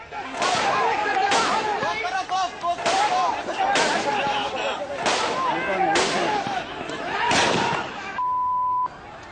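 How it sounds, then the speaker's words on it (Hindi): Repeated loud sharp bangs of gunfire during a riot in Meerut, roughly one report every second, each cracking over a noisy outdoor background. "लोग भागते रहे, गोलियां चलती रही।"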